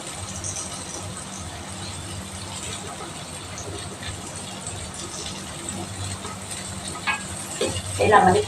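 Beefsteak and sliced onions fry in a pan, giving a steady sizzle with occasional stirring and clattering and a louder burst at the end, while a voice speaks faintly underneath.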